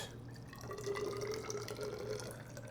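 Plain water poured onto a scale for mixing pottery terra sigillata makes a faint, quiet trickle with a thin steady stream for a couple of seconds, with no voices.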